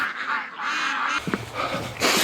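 Muscovy ducks calling outdoors in winter on ice, a few hoarse honking calls close by with a brief thud between them.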